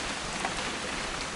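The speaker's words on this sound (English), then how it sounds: "It's gonna rain the whole weekend" Rainfall in the video game What Remains of Edith Finch, a steady hiss of drops on surfaces with scattered close patters, continuous and moderately loud with no voices.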